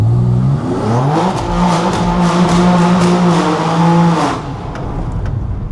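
A BMW G8X M3 accelerates hard through a tunnel. Its loud engine note rises steadily in pitch through several seconds, booming and echoing off the walls, then drops away as the throttle lifts.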